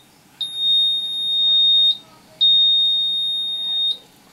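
Two long, steady high-pitched electronic beeps from a vehicle's engine control module sound in succession with a short gap between them, clear and close.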